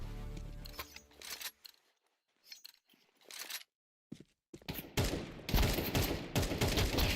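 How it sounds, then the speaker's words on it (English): Gunfire from a video game firefight: bursts of automatic shots and single cracks come in uneven volleys broken by short silences, then build into dense, loud sustained firing toward the end, with no voices. "What an intense firefight."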